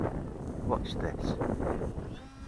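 P60 RC boat on a 1300mAh battery accelerating hard, a steady close whirring drone with wind buffeting the microphone, bursts of water splash and spray, and a voice calling out partway through.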